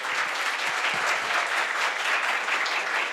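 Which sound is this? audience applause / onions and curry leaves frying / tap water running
audience applause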